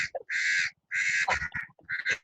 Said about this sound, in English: is there a bird in the background?